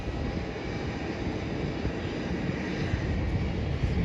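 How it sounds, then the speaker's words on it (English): Jetstar Airbus A320 airliner approaching to land, a steady broadband engine roar that holds loud and close throughout with no pauses. "It also looks like there's going to be another flight landing from the east-west runway."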